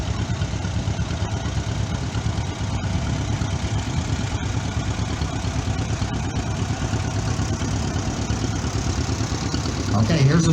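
A two-cylinder tractor engine runs at a threshing bee parade, a steady low chugging rumble throughout, with a voice talking over it.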